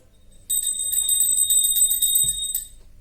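A small bell rings in a rapid, bright trill for about two seconds, close and clear against quiet, then stops.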